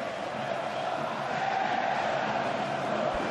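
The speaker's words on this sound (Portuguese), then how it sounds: "Olha a torcida do Bahia fazendo a festa." Bahia football supporters cheering and chanting in a packed stadium during a Brasileirão match against Corinthians, a loud, continuous crowd roar.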